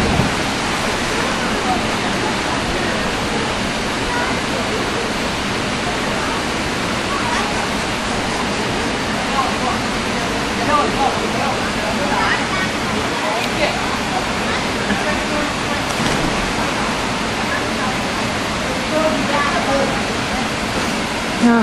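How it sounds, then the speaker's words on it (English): A river waterfall pours in a constant, dense roar that holds steady throughout, close and loud with no pauses. "just chilling at the river. It's our falls."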